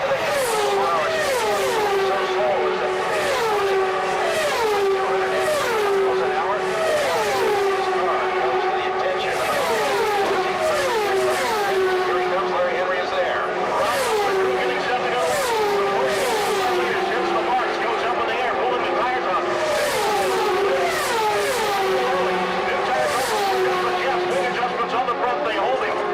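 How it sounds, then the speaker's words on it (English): Indy race cars at the 2000 Michigan 500 wail steadily as they come into the pits, high engine notes rising and falling while several cars pass close and loud with no gaps. "We've got the Amex car coming into the pits."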